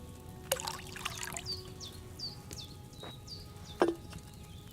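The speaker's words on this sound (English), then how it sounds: "First, you have to pour the right base into the cauldron." Wine trickles into a cauldron in Kingdom Come Deliverance II, a soft, quiet pour with a couple of splashy clinks and faint bird calls behind it, with no one speaking.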